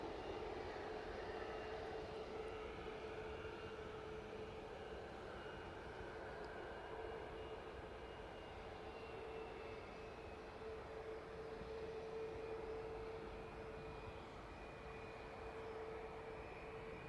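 A Ryanair airliner on approach to East Midlands Airport in the evening, its engines a steady, sustained broadband roar with a faint tonal whine, fairly loud and continuous throughout with no talking.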